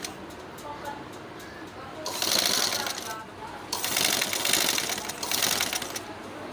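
Sewing machine stitching a seam on a small boy's kurta, bursts of fast mechanical rattling that start and stop several times, near and moderately loud, with a faint voice and bird sounds in the background.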